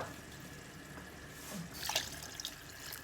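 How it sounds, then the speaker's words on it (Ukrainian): Water is poured into a pot of soup, a faint trickling splash rising toward the end over a quiet background. "Тепер ми в юшку долиємо водички ще і кинемо картоплю, сидину."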